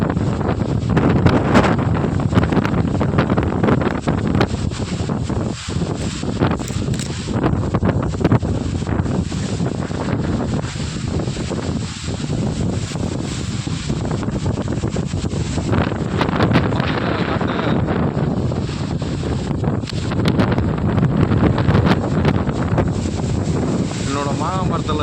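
Strong gusting wind roars steadily through mango trees laden with young fruit, a loud continuous broadband rush buffeting the microphone for the whole stretch with no pauses.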